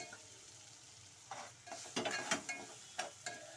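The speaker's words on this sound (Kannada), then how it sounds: "ಹುರ್ಕೊಂಡಿರೋ ರವೆನ ಇದರಲ್ಲಿ ಒಗ್ಗರಣೆಗೆ ಮಿಕ್ಸ್ ಮಾಡ್ಕೊಳ್ಳಿ" A spoon scrapes and stirs roasted semolina in a pan with tempering for upma in several short strokes, with a light sizzle underneath; no talking.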